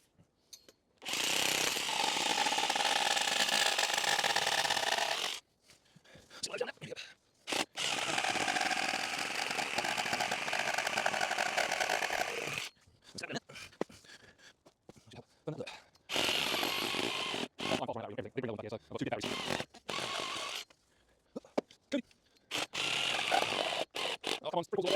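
A battery-powered cutting tool cuts through pieces of a garden frame on an allotment in loud, sustained bursts separated by pauses, with a person speaking in between.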